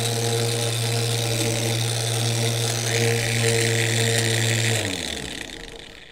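A Griot's Garage 3-inch random orbital polisher runs steadily on a motorcycle, giving a loud, even motor whine with a constant tonal hum that winds down and fades over the last second as the tool is switched off.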